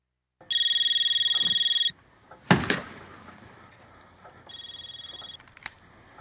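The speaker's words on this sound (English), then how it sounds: "here's the phone call that they make to Stavros." A telephone rings in a played excerpt from a show: a long electronic ring, then a sharp knock or slam, then a shorter second ring over faint background noise.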